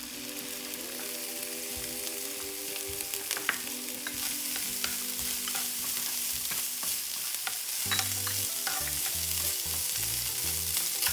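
Rice frying in butter in a hot pan for a Chipotle-style lemon rice, with a steady close sizzle broken by scraping stirs throughout; no voices.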